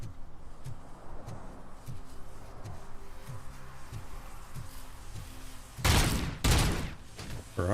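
Gunfire in the video game Robocop: Rogue City: a steady run of low repeated shots under a rumbling background, then two loud, close, broadband blasts near the end.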